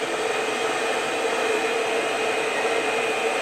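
A hair dryer on a warm setting blows steadily onto a beard, giving a constant, close, loud whoosh and whine with no pauses and no speech.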